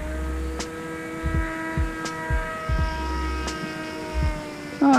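An AR Wing Pro FPV drone wing with its motor and propeller buzzes steadily in flight, a sustained whine with faint pitch shifts as it passes, punctuated by occasional low thumps and a rise at the very end.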